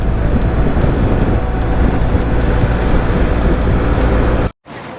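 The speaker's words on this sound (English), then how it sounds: "my bike is just making horrible noise" A motorcycle on worn tires rolls along a road with a loud, constant droning roar of engine, tire and wind noise, cutting off abruptly near the end.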